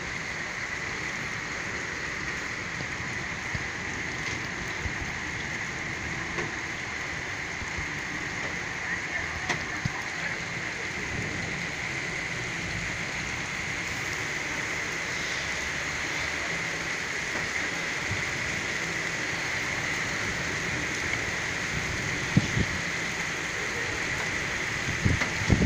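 Heavy rain pours steadily over Madrid during a powerful thunderstorm, a dense continuous wash of noise throughout with a few sharper spikes near the end; no thunder crack clearly stands out.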